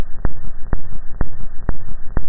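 Horizon photo sonified into a waveform and played back, a low rumbling drone punctuated by five evenly spaced thumps, like a slow pulse.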